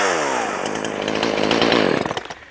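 A Poulan 5020 chainsaw runs loud and close, its two-stroke engine revving in a rising harmonic whine before dropping off near the end.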